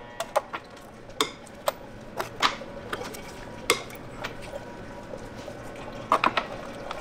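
Engine oil drains from a BMW E46, heard as scattered drips and splashes landing in a pan over a low steady background, with no speech.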